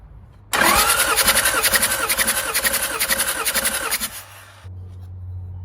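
Engine cranking during a compression test on cylinder 3 of a misfiring engine: a loud, steady starter whir with rapid rhythmic pulsing lasts about three and a half seconds, then stops and leaves a low idle-like hum.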